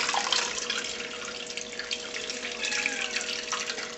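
Whey draining from goat's milk cheese curds in a home kitchen, a steady close trickle and splash of liquid running without pause, with no talking.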